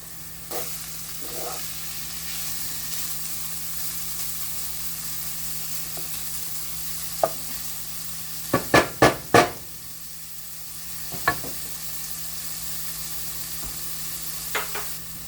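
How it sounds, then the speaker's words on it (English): Smoky ham fries with onion in a pan under a constant low sizzle, while a quick cluster of sharp utensil knocks sounds midway and single taps come now and then. "So now I'm going to throw the ham in because you want the ham to get a little crispy."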